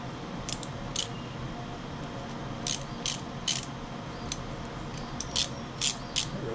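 A wrench works on an Ariens 42-inch riding mower, giving intermittent short metallic ratcheting clicks in quick bursts over a steady low background hum.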